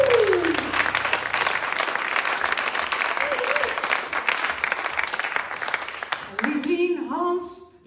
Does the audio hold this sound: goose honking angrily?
no